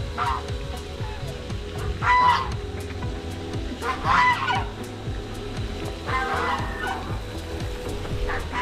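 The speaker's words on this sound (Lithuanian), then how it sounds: "Žąsis žąsį supranta." Geese honk in several separate bursts spaced a couple of seconds apart, fairly near, over a steady murmur of outdoor background noise.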